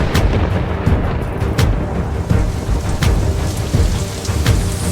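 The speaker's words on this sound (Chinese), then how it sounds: "地面就给我们通报说地面突降暴雨，突然来袭的那种暴雨" Sudden heavy downpour pounding loudly and steadily on surfaces, broken by several sharp cracks and rumbles of thunder.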